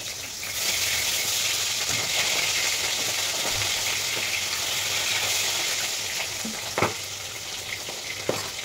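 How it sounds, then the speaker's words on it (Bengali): Fish fries in a kadai on a stove, a steady loud sizzle that holds throughout with a couple of brief sharp pops and faint stirring knocks near the end. "এই সাইডে আমি মাছ ভেজে নিচ্ছি"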